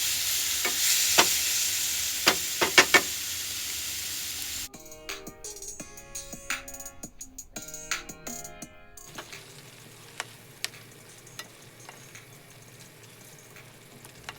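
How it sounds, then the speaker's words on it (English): Squid frying in oil in a pan, with a loud broadband sizzle and stirring clatter for the first few seconds, then calmer bubbling mixed with clinks and background noise. "And put down all the squid in the pan and fry them."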